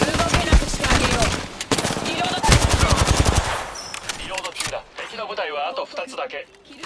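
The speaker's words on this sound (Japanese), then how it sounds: "撃たれてる。" Rapid automatic weapon fire in an Apex Legends firefight, loud dense bursts for several seconds, then quieter clatter and effects with a voice speaking over the later part.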